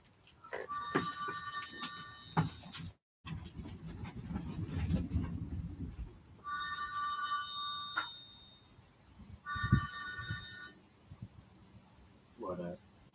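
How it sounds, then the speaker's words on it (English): A mobile phone rings outdoors on a porch with a repeating electronic ringtone in several bursts, fairly quiet, while someone talks over and between the rings. "Hold on, my phone's ringing."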